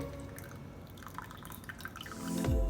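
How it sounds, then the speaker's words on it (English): Water poured into a pot of boiled milk while making milk tea, a soft, close liquid trickle and dripping that builds into a fuller splash of pouring near the end. "We can now add in our water and our tea bag."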